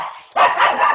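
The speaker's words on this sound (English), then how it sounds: "Now you got your dog all riled." A pet dog named Telly lets out a sudden, loud, close-up bark after a quiet start, followed by continued agitated yipping and barking.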